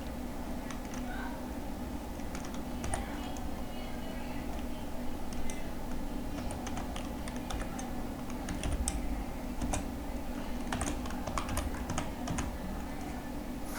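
Keyboard typing clicks out text in steady bursts of sharp keystrokes, fairly close, over a constant low hum with faint background sound.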